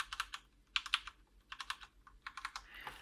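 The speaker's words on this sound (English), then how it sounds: "that gorgeous Cherry MX red key switch noise" Corsair K65 keyboard with Cherry MX Red switches and a full aluminium body, keys tapped in several quick bursts of soft clacking with short pauses between, close and fairly quiet, no talking.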